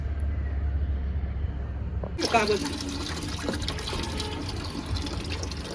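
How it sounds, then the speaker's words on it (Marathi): Water begins pouring suddenly, a steady splashing stream like a tap filling a vessel, with faint voices and low hum in the background. "टाकू पाणी इथंच."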